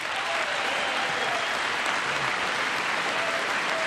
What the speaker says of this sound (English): That's something to clap for.